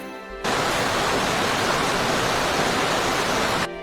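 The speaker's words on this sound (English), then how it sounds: "That's rain sound effect 1." Steady rain sound effect of dense, even hiss, loud and constant for about three seconds with nothing else over it, beginning and ending abruptly.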